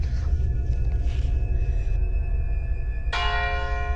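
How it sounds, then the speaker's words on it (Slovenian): A church tower bell tolls midnight with a long, ringing hum; a fresh heavy strike lands near the end, its overtones swelling over a low rumbling background, at a cemetery. "Zvonik je odbil 12."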